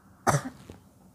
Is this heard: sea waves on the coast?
no